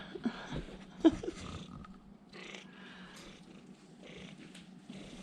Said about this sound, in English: You see this cat?